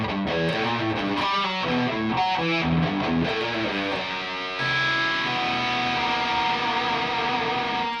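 A distorted electric guitar plays a riff, choppy chugging notes that settle into a held, wobbling note shaken with whammy bar vibrato, loud and alone.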